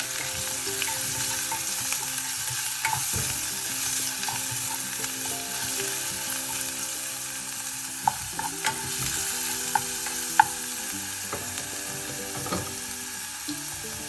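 Chicken liver sautéing in oil with crushed ginger and spices in a pan, a continuous close sizzle broken by scraping stirs and a few sharp clinks of the spatula, with no talk.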